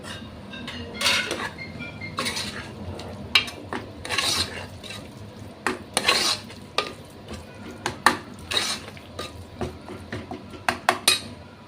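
Mutton paya mixture being stirred with masala in a pot, repeated close clinks and scrapes of a spoon against metal in an uneven rhythm, with a faint sizzle underneath.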